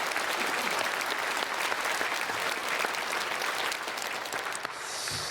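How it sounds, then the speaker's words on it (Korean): A church congregation at a Sunday worship service breaks into loud, sustained applause to welcome newcomers, dense clapping filling the hall for about five seconds before it thins out near the end. "크게 박수로 환영하겠습니다"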